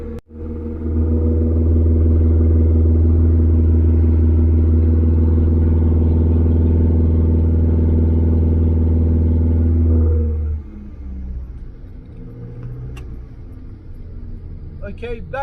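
A Datsun 1600 with an L20B engine on twin Webers revs on a dyno, a loud sustained harmonic drone held for about ten seconds before dropping back to a lower idle with faint clatter.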